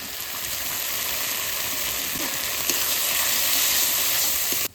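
Ground spices with salt and turmeric frying in oil in a home kitchen, giving a steady hissing sizzle that stays even and moderately loud before cutting off abruptly.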